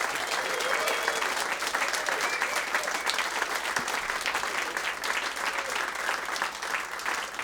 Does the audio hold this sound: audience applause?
yes